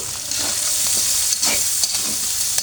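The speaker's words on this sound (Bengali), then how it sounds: "আমি এখন দিয়ে দেবো পেঁয়াজ কুচি।" Chopped onions drop into a hot pan and fry, the sizzle swelling into a loud, steady crackle with several quick stirring scrapes, up close.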